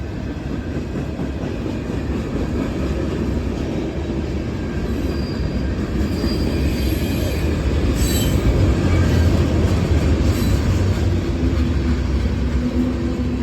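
CSX freight train rolling past at Glendale at night, loaded with aluminum ingots, a continuous close rumble of cars with intermittent high wheel squeal and faint clicking over the rails, no talking.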